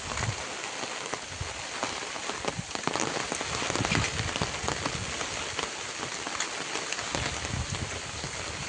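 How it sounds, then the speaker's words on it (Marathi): Steady rain pours down in a Konkan village during the first rain of the season, a dense, even patter on surfaces close by, with no talking. "एकदम मस्त केलंय पावसानं वातावरण."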